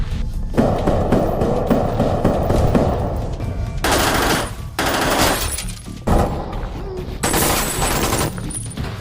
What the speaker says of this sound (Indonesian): Hyung-do kembali membrutal menembaki mereka semua